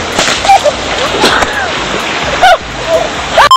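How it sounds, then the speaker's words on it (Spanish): Ocean waves wash and splash at a beach, a continuous watery rush with sharper splashes, heard beneath a voice talking. "Sentir la brisa, escuchar el tranquilo oleaje, darse un buen chapuzón y surfear como todo un profesional."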